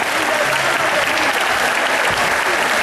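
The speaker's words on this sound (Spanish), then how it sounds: "Fuerte, fuerte el aplauso" A crowd claps loudly and continuously at a Mother's Day celebration in a sports hall in El Seibo, a dense, steady wash of applause with faint voices under it.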